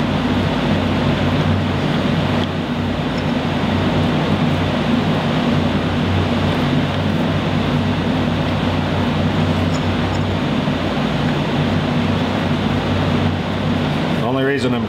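A lathe cuts a hardened steel part, hard as a bearing race, from a John Deere machine, giving a steady, loud, droning hum with a continuous hiss throughout, while a voice talks intermittently.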